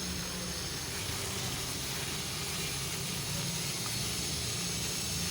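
Boiled taro root drops into hot oil already seasoned with whole cumin, giving a steady, loud, dense sizzle and hiss that runs unbroken without any voices.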